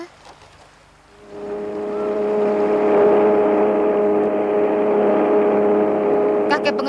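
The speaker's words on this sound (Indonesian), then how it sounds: "Kakek mau menyalakan speedboat air," A cartoon speedboat engine starts up and settles into a steady, loud droning hum with a bright tonal whine, running on for several seconds after a brief quiet lead-in.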